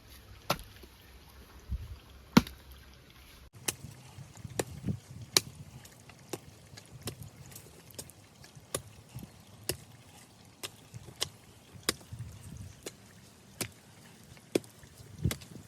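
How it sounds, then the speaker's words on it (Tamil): A hand hoe chops into field soil in the hot sun, a steady series of sharp, close strikes roughly every second over a low outdoor background, with no talking. "கொத்தி முடிக்கிறோம்"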